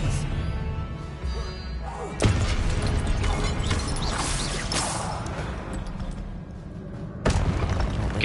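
Spell impacts from the Hogwarts Legacy video game land as heavy booms and thuds, with a sharp hit near the start and another near the end, over a dense, continuous bed of loud game effects.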